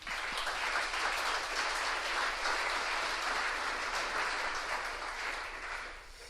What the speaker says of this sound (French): ça mériterait d'applaudir les gens derrière la documentation